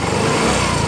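A Yamaha Mio M3 motorcycle engine hums steadily and loudly for under a second as the throttle is opened, close up and with no talk over it.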